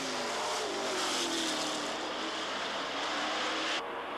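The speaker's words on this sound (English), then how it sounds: "All these cars are driving flat out, each on the limit, struggling to stay ahead or struggling to make a pass." A pack of 1984 Trans-Am race cars at Trois-Rivières drives flat out with a loud, continuous engine roar that holds steady, then drops away abruptly just before the end.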